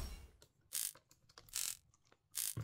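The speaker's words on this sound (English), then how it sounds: "we'll get the tri-wing bit to be able to take out the four tri-wing screws on the back." A small screwdriver clicks and ratchets against tri-wing screws on the back of a Nintendo Switch. Three distinct bursts of clicking come close up with quiet gaps between them.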